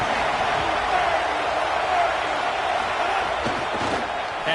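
A college football video game stadium crowd roars as a steady, dense wash of noise from thousands of fans, loud and continuous with no distinct voices.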